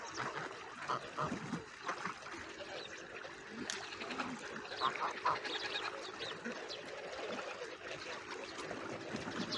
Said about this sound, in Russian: Сейчас наши гуси уйдут, придут другие гуси купаться.